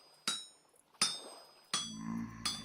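Smithing in the video game Vintage Story: four sharp metallic hammer strikes on an anvil land about one second apart. Each hit rings briefly and decays, with a faint glassy clink, and nobody speaks.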